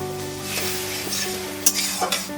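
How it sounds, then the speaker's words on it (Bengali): A close, steady sizzle of moong dal frying in oil with bay leaf and dried red chilli tempering, with soft stirring scrapes and a couple of brief utensil knocks on the pan. "একটু ভাজবো ফোড়নের সঙ্গে মুগ ডালটা"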